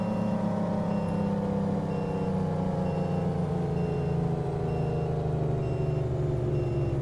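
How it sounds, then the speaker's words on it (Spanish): Engine braking and a droning truck engine in the American Truck Simulator video game, heard steady and continuous with a low rumble and faint periodic beeps. "Se escucha en realidad muy bien el freno de motor y pues el motor."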